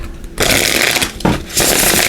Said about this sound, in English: So we'll look in here first at the Runic Tarot and just give these a shuffle, get their energy activated.